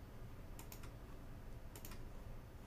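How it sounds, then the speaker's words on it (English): Two short bursts of computer keyboard typing, a few rapid clicking keystrokes each, heard close against a steady low room hum. "I'll just type in some"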